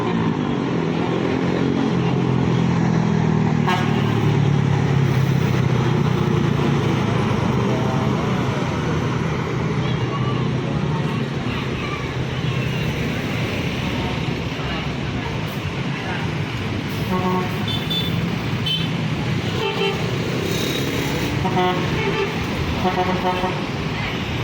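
PMTOH bus pulls away on an Indonesian road amid steady roadside traffic roar, with horn toots and passing vehicles, loud and continuous, while people talk over it.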